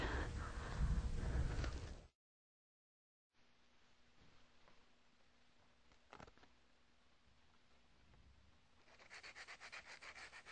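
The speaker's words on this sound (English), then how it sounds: "I've got a garbage bag underneath me to catch all the dust that I'm sanding off" Steady scratchy rubbing of sandpaper over a primed rocket body, a continuous abrasive hiss after a brief louder burst and a short silence, with no talking.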